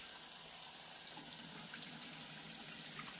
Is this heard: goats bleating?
no